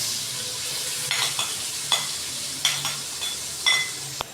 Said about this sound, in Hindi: अच्छी तरह मैंने प्याज को भून लिया।